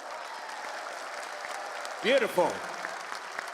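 A crowd applauds steadily at a CS:GO showmatch esports event between Team Australia and Team UK, a continuous wash of clapping with a voice speaking briefly over it.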